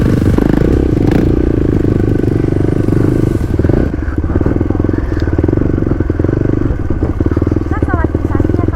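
Motorcycle ridden slowly on a punctured, flat tyre along an off-road route, engine drone mixed with rattling clatter and scraping from close by, with voices talking over the ride.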